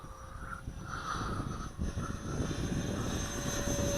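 A FreeWing ME 262 RC model jet takes off, its electric fan whine building steadily into a loud, continuous rushing drone as it climbs away from the runway.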